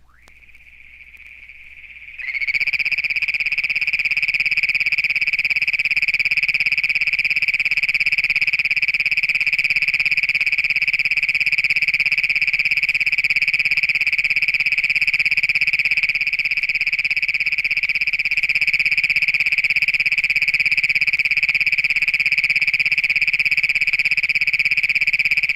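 One toad near a pond at Upham, North Dakota, gives a long, loud, steady trill that begins abruptly and holds without a break, piercing and close.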